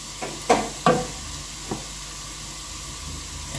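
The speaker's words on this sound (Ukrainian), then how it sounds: "Перемішую." A few scraping stirs against a pot of sauerkraut soup with tomato paste, three or four short strokes over a faint simmering hiss, then quiet sizzling.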